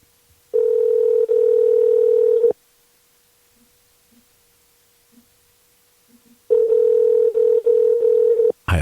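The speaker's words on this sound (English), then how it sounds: "I got the phone ringing." Two long bursts of a steady electronic ringback tone separated by a few seconds of near silence, heard clearly over a phone line.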